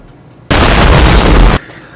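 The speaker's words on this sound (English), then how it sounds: "Explosion." A single loud, close explosion roars for about a second as a sudden wall of sound, then cuts off abruptly to quiet room tone.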